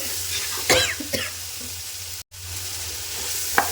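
Rose apple pickle being sautéed in a pan, a constant close hiss of frying broken by a few scraping stirs and a brief cutout midway.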